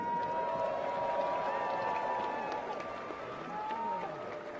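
A crowd at a US sumo tournament award ceremony applauds and cheers for sumo champion Ichinojo, a steady wash of clapping and crowd noise with faint tonal whistles mixed in.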